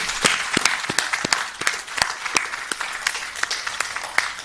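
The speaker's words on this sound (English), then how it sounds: "to appreciate God, the Creator and the Sustainer of the universe, for these great results with a big hand clap" An audience at a State House ceremony gives a round of applause, dense steady clapping from many hands, fairly close and even throughout.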